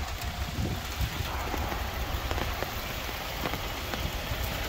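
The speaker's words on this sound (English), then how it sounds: "And I'm getting rained on." Steady rain patters down outdoors during an exterior inspection of a red 2018 Hyundai Sonata, a dense, even hiss of drops with scattered louder hits, close and continuous with no talking.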